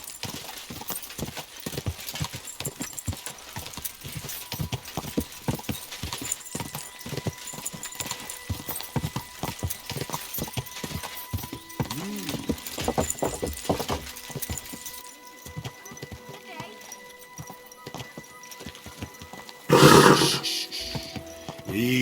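Horse hooves clop in a rapid, continuous rhythm for a long stretch in the video game Kingdom Come: Deliverance II, then slow and fade, followed by a loud whinny near the end.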